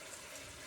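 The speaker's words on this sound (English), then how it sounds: "I'm gonna fill it with some water because I need to rinse these and soak these." Water runs steadily into a jar holding a tablespoon of sprouting seeds, poured for rinsing and soaking; a short, even, close wash of flowing liquid with no talk.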